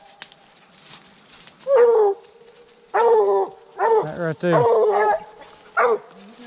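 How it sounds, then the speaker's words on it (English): Hunting dogs on a cold-night coon and possum hunt bark and bawl at an animal they have treed. The bursts are loud, close and irregular, with a voice speaking briefly between them. "Got the dogs treed up down here."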